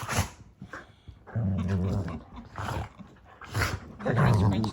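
A friendly puppy growls and grumbles playfully up close in short bursts, with a person talking over it at times.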